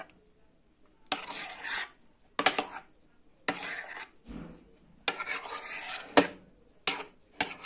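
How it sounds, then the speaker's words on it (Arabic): Taco salsa is stirred in a pan in separate passes, each a rough scraping rasp lasting about a second, separated by short pauses of near silence. "هنا غادي نحرك الصلصه ديالي مزيان"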